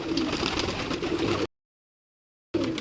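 A pigeon held close gives a soft, continuous cooing, near and fairly loud, broken by a short silent gap before resuming.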